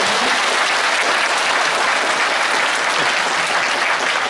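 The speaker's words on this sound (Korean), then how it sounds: "다시 한번 큰 박수 부탁드립니다" An audience applauds after a public lecture on the independence movement at the Gumi Arts Center: dense, steady clapping from a large crowd, loud and continuous throughout, with no speech.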